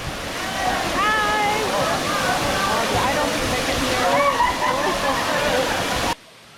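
A waterfall in Saint Lucia rushes loudly and continuously, and people talk and call out over the steady splashing torrent before it cuts off abruptly near the end.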